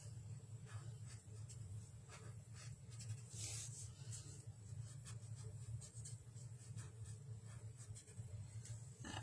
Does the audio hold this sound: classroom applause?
no